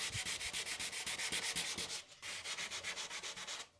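Rhythmic back-and-forth sanding strokes smoothing an epoxy repair on a surfboard ding, steady and close, with a brief pause midway and no talking.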